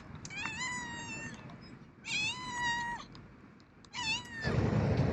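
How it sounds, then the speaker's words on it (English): A cat meows three times in drawn-out, rising-and-falling calls separated by pauses, fairly close and loud against a low rumbling background of wind or water on a boat trip. "Oh, look at that cat."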